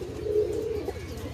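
A Giribaj pigeon at a pigeon farm in Rajshahi gives one soft, close, rolling coo lasting about a second.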